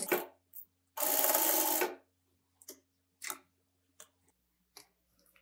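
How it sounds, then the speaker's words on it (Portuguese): Sewing machine running a quick safety stitch on a convertible bag that turns into a toiletry pouch, one longer buzzing burst of stitching among short clicks and rustles at close range, with no talking. "deixa eu passar uma costurinha aqui rapidinho"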